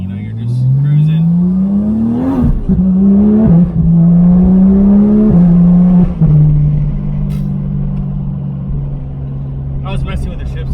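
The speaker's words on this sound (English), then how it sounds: "just even normal cruising, just such a beautiful sound of that flat six" A Porsche 911 GT3 RS flat-six engine cruises under light load, its steady drone rising through a couple of gears with brief dips at the shifts, then settling into an even hum; faint clicks at the end.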